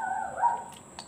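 A pet dog whimpers briefly indoors, a thin, close, high-pitched whine that wavers and fades within about a second.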